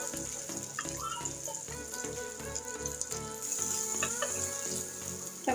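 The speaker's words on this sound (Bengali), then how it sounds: "এখন রসুনটা একটু ভালো করে ভেজে নিতে হবে" Thick-cut garlic fries in a pan with a steady, close sizzle that sounds watery and never stops, getting slightly louder near the end.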